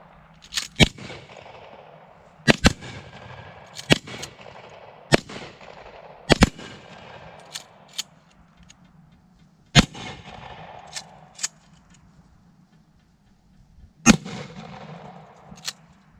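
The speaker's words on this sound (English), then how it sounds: "That thing shoots, man." A VR80 gun fires about a dozen loud, sharp single shots outdoors at an irregular pace, some spaced widely and some in quick pairs, each followed by a brief echoing tail.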